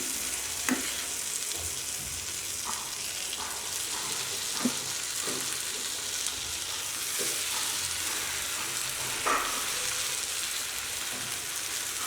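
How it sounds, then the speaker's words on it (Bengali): Beef sizzling after being added to fried onions in a pan for Bengali beef kala bhuna, a steady even frying hiss with faint scattered pops and stirring clicks, no talk. "এখন কিছুটা মাংস এনে এর মধ্যে আমি দিয়ে দিলাম"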